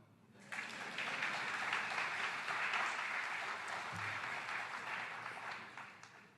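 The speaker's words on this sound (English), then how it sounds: "You can clap." An audience claps together after a quoted line in a talk, a sustained even burst of many hands that starts abruptly and fades slightly toward the end, fairly faint and distant, with no voices over it.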